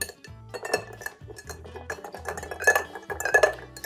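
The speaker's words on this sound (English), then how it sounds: "So we're just gonna give it a perfect stir." A whiskey cocktail stirred right in the glass, with a bar spoon clinking and scraping against ice and glass in a quick, uneven rhythm, close and moderately loud, with no talking.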